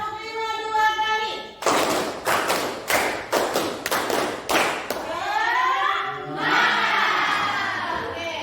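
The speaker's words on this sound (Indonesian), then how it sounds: "Tepuk 1, tepuk 2, tepuk 3, tepuk 4, tepuk 5. Tepuk 5 2 kali." A group, likely in a classroom, claps in a counted pattern: a quick run of sharp, loud claps in uneven clusters between stretches of chanted voices.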